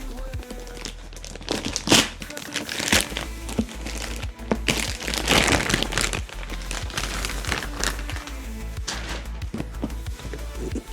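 Plastic packaging of a Lenovo Legion H200 gaming headset crinkles and crackles in bursts of handling noise, close up, with a low hum underneath and occasional sharper snaps.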